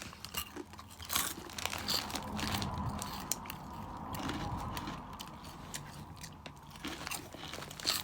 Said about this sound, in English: Just what you expect from a Cheeto. Extra crunchy.